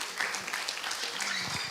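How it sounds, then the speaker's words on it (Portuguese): Church congregation applauding during an evening family worship service, brief soft clapping with murmured voices underneath. "Pode aplaudir"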